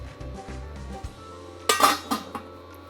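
A lid is placed on a pot of masala cooking with tomato and yogurt, giving a few bright metallic clanks and clinks close by. Soft stirring scrapes come before them, and there is no talk.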